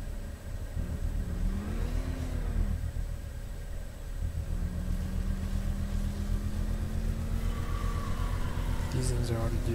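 The Batmobile's engine in Batman Arkham Knight drones and revs while driving, rising and falling pitch with a louder surge near the end, continuous and close, with someone talking over it.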